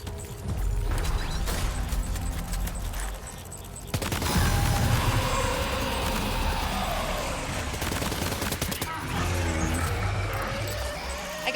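Gunfire in the video game Death Stranding 2, with dense bursts of rapid shots and mechanical clatter over a loud, continuous game soundscape, no talking.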